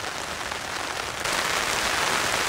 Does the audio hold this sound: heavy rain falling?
yes